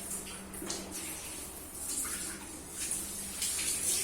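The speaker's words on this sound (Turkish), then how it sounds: "Şimdi suyu kapatacağım." Tap water runs steadily onto a carpet being washed on a balcony, a continuous splashing hiss with small shifts in flow, fairly close and with no one speaking.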